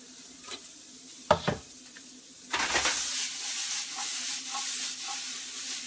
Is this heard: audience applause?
no